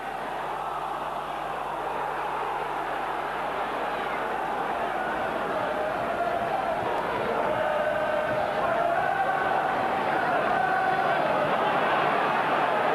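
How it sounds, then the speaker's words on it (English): A large football crowd at Sunderland versus Middlesbrough in 1992 gives a sustained, distant roar of booing that rises slightly in pitch and intensity as it goes on. "Boos from the crowd as they think there should have been a free kick awarded Sunderland's way"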